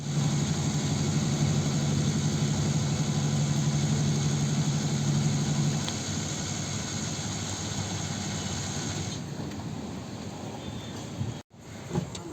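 A diesel car's engine idles at a fuel station in Mahuva, a steady low hum with a mid-range drone that eases partway through, followed by a short knock near the end.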